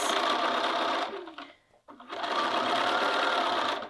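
A sewing machine stitches through a cuffed sleeve and its seam allowance in a fast, steady hum, pauses briefly partway through, then resumes at the same even pace.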